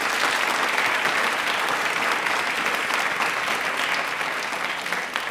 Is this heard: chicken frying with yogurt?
no